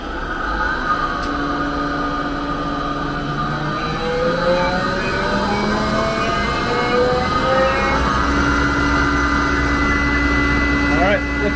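A repaired compressor with newly tensioned belts runs steadily and loudly, a continuous mechanical drone with shifting tonal whines and rumble throughout, with no talk.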